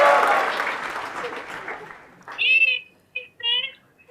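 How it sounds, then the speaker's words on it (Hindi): A crowd claps at an indoor talk event, and the applause fades out over about two seconds. Then someone speaks alone at close range. "आपके लिए अभी यहाँ पर सब लोगों ने बहुत बड़ी तालियां बजाई"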